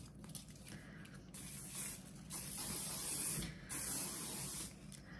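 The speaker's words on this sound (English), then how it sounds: "Hairspray. Flexible Control Garnier. Level 2 hold." Garnier Flexible Control level 2 hold hairspray sprays in several bursts, a steady close hiss with brief pauses between them and no talking.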